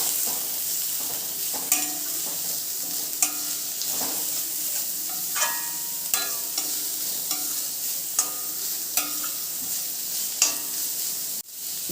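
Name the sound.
stirring fried cabbage, capsicum, carrot and beans in pan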